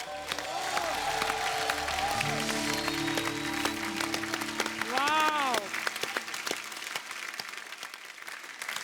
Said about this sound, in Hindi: खुल के तालियां हो जाए हमारे आज के सारे मेहमानों के लिए।